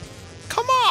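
A bee enemy in the A Bug's Life action video game gives a short, rising insect buzz with a sweeping harmonic whine, near and fairly loud, closing off a second of low background game sound.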